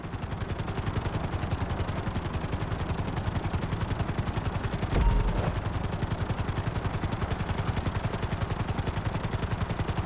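A helicopter flies in the video game GTA V, its rotor beating as a steady, rapid chop that stays loud and even throughout, with one brief thump near the middle.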